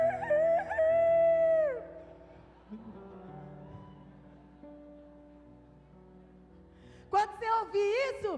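A preacher imitates a rooster crowing in a church hall. A loud wavering crow opens the clip, then quieter sound follows, and another short burst of crowing comes near the end.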